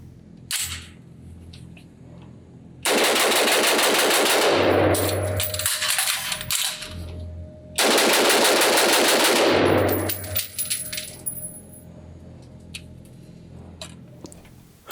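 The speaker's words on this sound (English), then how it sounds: "let's see how fast I can do this magazine change and dump some more rounds downrange" Rapid bursts of gunfire from a B&T Haenel CR223 BT-15 pistol at a shooting range, two long loud strings of fast shots separated by metallic clicks and clatter of a magazine change.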